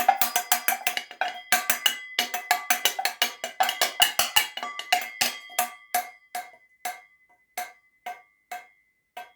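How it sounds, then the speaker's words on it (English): A spoon strikes a cooking pot in a quick run of ringing metallic clinks. The strokes then slow to sparse, evenly spaced taps, close and bright, with no talking. "you will hear the different sounds that you can make with one spoon and one pot"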